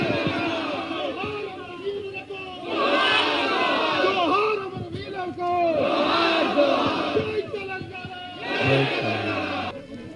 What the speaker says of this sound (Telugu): ప్రొఫెసర్ నాగేశ్వరరావు గారికి గట్టిగా చప్పట్లు కొట్టాల్సిందిగా